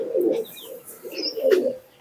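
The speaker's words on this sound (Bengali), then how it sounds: "দেখো এই হচ্ছে পায়রা" Pigeons give soft, low throaty coos in a few rolling phrases close by, with faint higher chirps between them and no talking.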